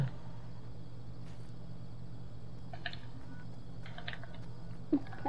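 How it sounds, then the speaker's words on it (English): Faint, scattered keyboard clicks of someone typing on a computer keyboard during a Fortnite match, heard over a low steady background hum. "I can hear you just typing away."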